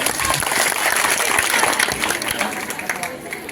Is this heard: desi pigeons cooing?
no